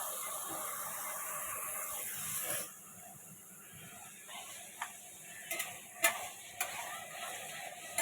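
Small pieces of large katla fish head fry in hot oil, a soft continuous sizzle with a steady high hiss, broken by a few sharp spatters and clicks near the end.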